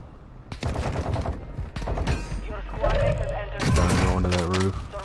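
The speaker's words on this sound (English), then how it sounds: "I just shot him to get him off of you." Gunfire in Call of Duty Warzone 2.0 crackles in loud, irregular bursts of shots and impacts, mixed with game effects and overlapping players talking throughout.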